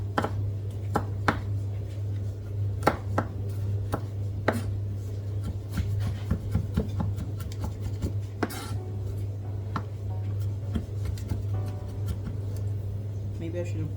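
A knife chopping garlic finely on a board, with irregular sharp taps, some in quick clusters, over a constant low hum, and occasional quiet background sounds.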